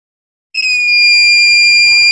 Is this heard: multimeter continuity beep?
yes